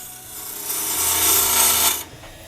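A carbide tool turns a wooden mallet on a lathe, giving a close, rasping, scraping hiss that swells for about a second and a half and then cuts off abruptly.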